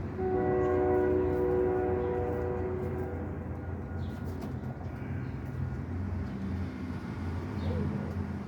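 A passing train sounds its horn in a long sustained blast for the first few seconds, then the rumble of railcars continues at moderate distance, with faint flutters and light noises over the steady roar.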